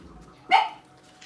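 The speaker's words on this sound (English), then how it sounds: "Sorry about the dogs barking, guys." A dog gives a single sharp, fairly close bark indoors, standing out briefly against a quiet background.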